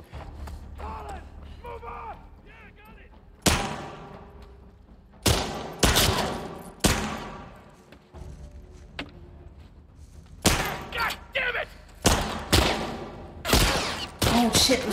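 Gunfire in The Last of Us Part II: sharp, loud single shots and quick clusters of shots hit at irregular intervals, with low ambient rumble between them and a voice talking early on.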